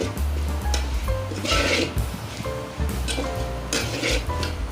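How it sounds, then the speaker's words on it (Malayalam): Grated coconut dry-roasted in a pan over a low flame, with repeated scraping stirs of a spoon against the metal over a soft, constant sizzle, close up and without talk. "ചുമന്ന് വരുന്നിടം വരെ നമുക്ക് വറുത്ത് കൊടുക്കാം"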